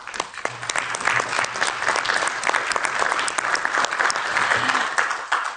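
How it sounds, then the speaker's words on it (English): Sustained applause fills a European Parliament chamber, dense clapping from many members holding steady and loud throughout with a low hum underneath. "and we can applaud him"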